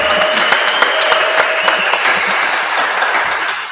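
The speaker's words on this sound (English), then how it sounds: "Let's give Abby a massive clap" A gathered audience claps loudly for a speaker at an evening event, crisp individual hand claps standing out within a busy, close round of applause that tapers slightly at the end.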